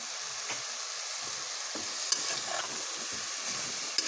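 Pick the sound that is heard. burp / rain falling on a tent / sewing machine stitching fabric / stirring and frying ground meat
stirring and frying ground meat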